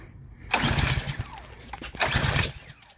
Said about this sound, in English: I got the old Subaru fired up